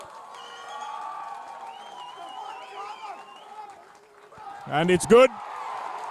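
Home crowd at a schools rugby match between St Joseph's College and St Peter's College erupting into a short, loud burst of cheering and applause after a kick, over steady commentary.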